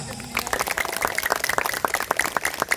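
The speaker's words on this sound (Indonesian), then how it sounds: "Saya minta tepuk tangannya untuk anak-anak kita." Applause for the children at a routine neighborhood religious gathering: a short burst of scattered hand claps from a small audience, moderately near and fairly quiet, starting after a brief moment of low room noise.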